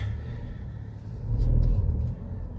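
A 2023 Tata Punch pulls away with the air conditioning on, its engine rumbling low and swelling briefly as it gets moving, then easing back to a steady hum.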